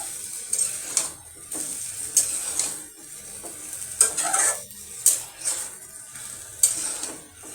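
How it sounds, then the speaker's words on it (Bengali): Chicken curry with papaya is stirred in a pan, a spoon scraping and clinking in uneven bursts over a low background, with no talking. "অফ ক্যামেরা নাড়াচাড়া করছি।"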